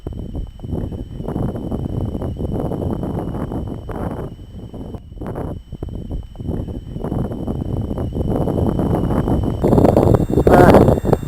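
Strong wind gusting across frozen Lake Baikal, a loud, continuous roaring buffet of wind against the microphone that rises and falls, growing heavier toward the end.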